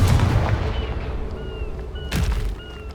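A Confringo fire spell from the Hogwarts Legacy video game bursts with a booming explosive crack, a short rumbling blast at the start followed by a second sharp hit and fading tonal shimmer.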